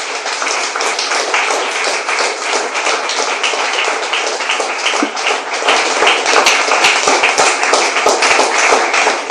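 A church congregation applauds loudly during a sermon on false doctrines, with many hands clapping in a bright, dense, continuous patter that grows slightly stronger and more distinct in the second half.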